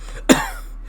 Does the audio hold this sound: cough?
yes